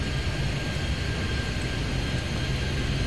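A jet airliner taking off in the airport game Airport Madness at Toronto Pearson, a continuous loud, even engine roar filling the scene with no talk.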